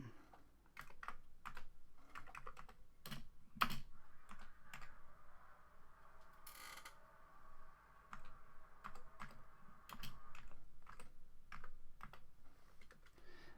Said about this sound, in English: we can type in a word or anything we want